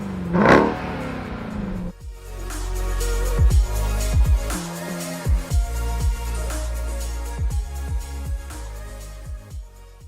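A Dodge Durango three-row SUV engine revs hard, with a sharp initial blip followed by a sustained throaty roar and repeated rising and falling surges, loud and close.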